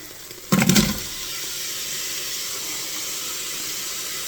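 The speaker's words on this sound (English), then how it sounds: "I'm going to fry the onions next." Onions tipped into hot oil in a WMF Lono multi-cooker give a sudden loud hiss lasting about half a second, then settle into a steady, softer sizzle that continues to the end.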